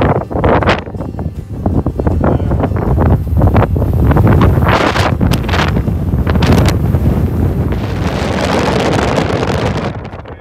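Strong gusting wind, around 25 knots, buffets the microphone high on a mountain ridge on the Jumbo Holdsworth circuit, a loud continuous roar with surging gusts throughout and no talking.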